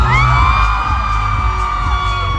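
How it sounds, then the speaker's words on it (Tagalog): A loud concert crowd at a main stage yells and whoops at once, a dense, sustained roar mixed with ringing tones from the sound system throughout. "Kaya naman, lahat ng pinalaki ng Sexton, sumigaw!"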